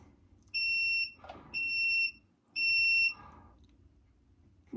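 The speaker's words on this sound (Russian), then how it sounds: "давайте активируем сигнализацию, которая будет нам сигнализировать о том, когда необходимо будет заменить фильтр" Three evenly spaced high electronic beeps, each about half a second long, come from the replacement-timer alarm on a bathroom water filter as its button is pressed and held. They sound close and clear over a quiet room.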